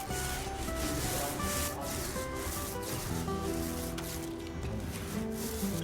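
Brush rubbing diluted lime wash onto a wall surface, a close, continuous scrubbing and swishing with uneven strokes and no speech.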